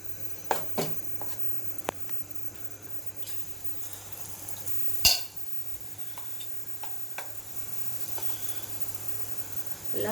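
Vada pav curry mixture fries in hot oil with a soft, steady sizzle, broken by scattered sharp pops and crackles, one louder near the middle, heard close and fairly quiet.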